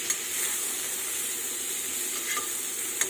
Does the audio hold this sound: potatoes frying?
yes